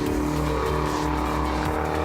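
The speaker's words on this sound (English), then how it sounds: "Frank Copping is heading into Sunset in his beautiful blue Renault Dauphine" A blue Renault Dauphine race car built by Vaughan Wetton drives hard at a racing circuit, its engine droning loudly and steadily with faint tire noise, close and continuous with no voices.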